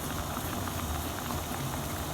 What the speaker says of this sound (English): my dumplings been boiling for like 20 minutes now